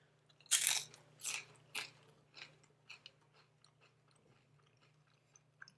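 Crisp bites into a spicy Paqui tortilla chip, a few loud close crunches at the start, then quieter chewing that fades into soft, sparse crackles.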